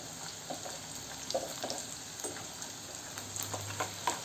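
Edible gum (dink) fries and puffs in a hot pan with soft, scattered sizzling crackles and pops, quiet and close, as the pieces are stirred.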